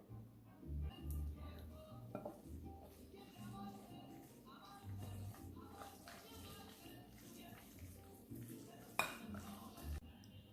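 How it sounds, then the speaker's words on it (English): Chicken salad ingredients are stirred together in a mixing bowl, with a utensil scraping and clinking against the bowl in a few light knocks over a steady, low background murmur. "Our last step is to mix all of the ingredients together."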